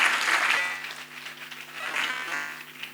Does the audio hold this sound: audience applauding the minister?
yes